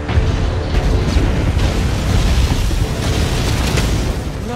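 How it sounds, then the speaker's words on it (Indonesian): A loud, sustained rumbling explosion in Marvel's Spider-Man fills the whole moment, a dense low roar with crackling debris and no speech over it. "Beruntungnya Peter masih selamat dari ledakan"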